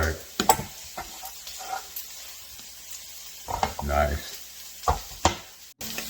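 Vegetables stirred while frying in a pan for a leftover turkey pot pie, giving a soft sizzle with scraping, clattering stirs in uneven bursts; a voice speaks briefly.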